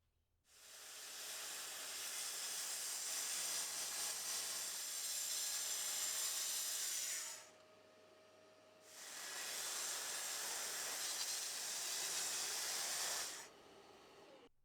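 Two long, loud passes of a saw cutting through the excess length at the end of a wooden tabletop, a steady hissing roar that stops briefly in the middle before the second cut, with no talk.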